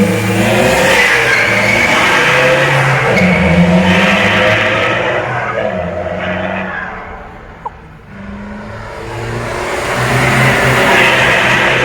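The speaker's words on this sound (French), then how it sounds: "On se retrouve à bord de la Mazda 3 pour un petit essai routier" A 2012 Mazda 3 with a 2.2-liter turbo diesel, stage 1 tuned, revs hard on a road test, engine note rising and falling through repeated loud pulls with a dip near the middle.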